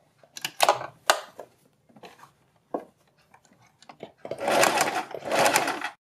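A sewing machine stitches a fabric strip in short bursts, then runs in two longer, louder stretches; the whirring stays close and clear with no talk.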